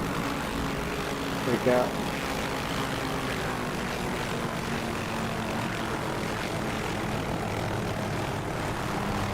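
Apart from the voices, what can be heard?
aircraft engine revving in the DCS flight simulator game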